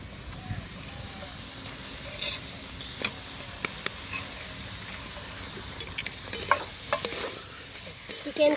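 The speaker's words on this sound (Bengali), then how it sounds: "চিকেন দিয়ে ভালো করে মশলার সাথে সব কিছু কষিয়ে নেব ভালো করে।" Desi chicken fries in a pan with spices and Kashmiri red chilli powder, a steady sizzle under repeated scraping stirs and clinks of the spoon, close-up.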